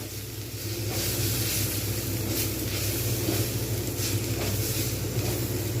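Stale-roti chowmein sizzling while being stirred with soy sauce in a hot pan, a steady loud hiss and crackle with faint scraping, continuous and without talk.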